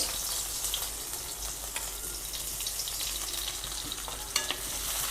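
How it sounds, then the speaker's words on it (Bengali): A handful of onions frying in oil and ghee to make crisp beresta, a steady close sizzle with occasional stirring taps and one sharper clink near the end, no talking. "এই পেঁয়াজটাকে আমি বেরেস্তা বানিয়ে নেব"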